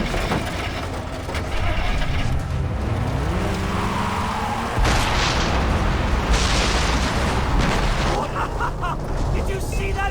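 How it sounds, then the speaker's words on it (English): An explosion in the video game Far Cry 3 bursts through constant vehicle and game noise, a broad loud blast midway followed by ongoing rumbling action. "Did you see that explosion?"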